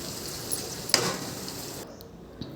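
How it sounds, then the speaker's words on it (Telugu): Green chillies frying in hot oil and being stirred once in a pan, a steady close sizzle with a brief stirring clatter early on before the hiss drops lower. "చిల్లీస్ వేసిన తర్వాత మళ్ళీ ఒకసారి తిప్పుకోవాలండి"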